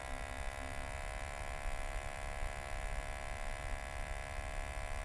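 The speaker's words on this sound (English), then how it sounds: "It wobbles and the fins scrape against the metal in the cooler." A broken replacement laptop cooling fan wobbles so its fins scrape against the metal of the cooler, giving a steady close-up electric hum and buzz that runs unbroken throughout.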